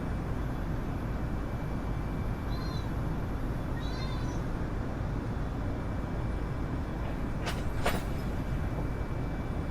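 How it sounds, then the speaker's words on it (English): A cat meows twice, faint and somewhat distant, over a constant loud rumbling drone. Two sharp clicks follow near the end. "Just sits there behind me meowing."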